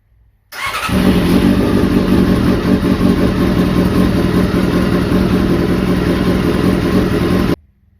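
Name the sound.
motorcycle engine running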